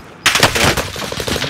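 Rapid automatic MP40 gunfire in Call of Duty Warzone, a loud sustained burst of fast shots that starts abruptly and rattles on close by.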